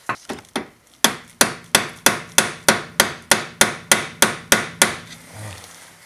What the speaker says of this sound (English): The best way is to use a hammer and a screwdriver just to tap it so